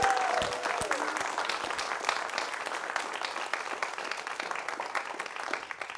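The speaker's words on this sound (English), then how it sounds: "Can we welcome them with a giant round of applause?" Church congregation applauding at a Unitarian Universalist Sunday service, steady dense clapping throughout, fairly close and even, with a few voices mixed in.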